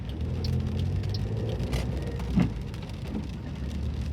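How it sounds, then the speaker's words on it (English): Rain patters steadily on a car during an evening drive around Blackpool, a dense even hiss with low road rumble beneath and a brief louder thud partway through. "But they'll be happy now it's starting to rain."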